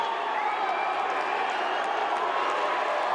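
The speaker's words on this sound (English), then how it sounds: "This crowd has blown the damn roof off the Adelaide Entertainment Centre." A packed wrestling crowd at the Adelaide Entertainment Centre roars and cheers continuously, a dense loud wash of voices with some clapping, while a commentator talks over it.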